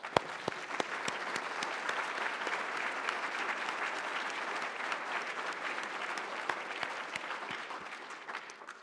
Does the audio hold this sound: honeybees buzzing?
no